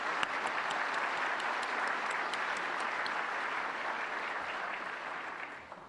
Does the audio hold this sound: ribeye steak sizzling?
no